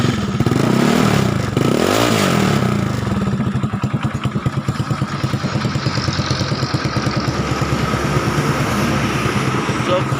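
A Mio Mxi scooter with a racing starter motor cranks with a loud whirring and the engine catches and revs. A rapid, rhythmic idle clatter follows, close up, and voices are partly heard over it.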